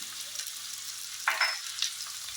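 Sliced onions with salt frying in coconut oil, a steady close sizzle with brief stirring scrapes partway through.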